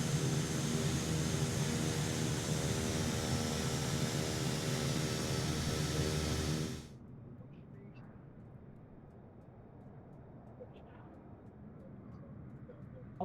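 An airliner on landing approach in Microsoft Flight Simulator gives a loud, steady engine roar that cuts off abruptly partway through, leaving a low, quieter hum with faint clicks.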